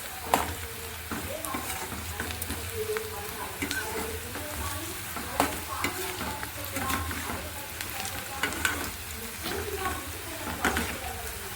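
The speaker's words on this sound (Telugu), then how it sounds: "చూడండి, ఉల్లిపాయ ముక్కలన్నీ కూడా చక్కగా వేగిపోయాయి" Onion pieces frying in oil for a bitter gourd curry, a continuous close sizzle with frequent clinks and scrapes of a spoon stirring throughout.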